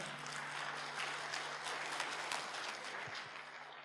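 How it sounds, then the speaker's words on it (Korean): A church congregation claps steadily, a broad wash of applause heard from a moderate distance with no talking over it. "박수로 한번 크게 격려해 주시기 바랍니다."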